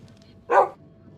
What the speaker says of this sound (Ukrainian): Та не гавки ти.